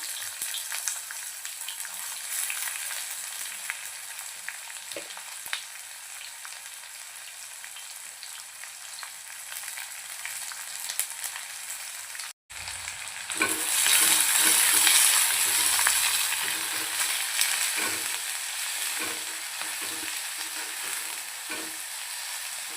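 Chopped onion frying in a pan of oil with bay leaf while being stirred, giving a steady close sizzle that swells louder after a brief break and continues under occasional scraping, with no talking.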